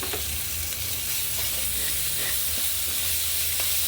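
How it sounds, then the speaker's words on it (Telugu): Ginger garlic paste fries in a pan with a dense, constant sizzle, broken by the soft scrape of a spoon stirring through it. "అల్లం వెల్లుల్లి పేస్ట్ బాగా ఫ్రై అయ్యాక"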